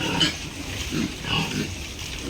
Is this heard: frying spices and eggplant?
no